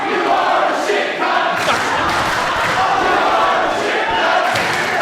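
A wrestling arena crowd chants loudly and steadily during a PWA Colosseum match, with a dense wall of voices that stays continuous from start to finish.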